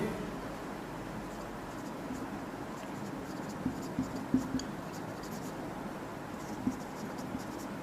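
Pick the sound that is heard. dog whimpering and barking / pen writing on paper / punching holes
pen writing on paper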